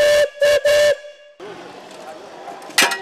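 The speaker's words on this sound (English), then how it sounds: "That's a 1906 Russell steam engine, traction engine." Whistle of a 1906 Russell steam traction engine: three loud, sharp blasts in quick succession, then a hissing rumble of steam and machinery, with a final short blast at the end.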